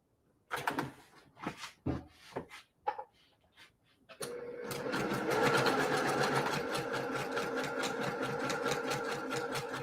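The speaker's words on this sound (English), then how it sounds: "I am stitching just inside of that line just to give me plenty of room to be able to trim." A sewing machine stitches an Ohio Star quilt block, running in a steady, even whir after several soft clicks and handling knocks at the start.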